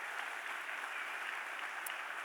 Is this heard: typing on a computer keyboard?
no